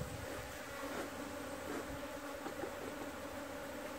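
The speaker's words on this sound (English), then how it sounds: "I tell you these bees are really cross" Agitated honey bees at an open hive fill the air with a dense, continuous buzzing hum, close and steady throughout, with no voices.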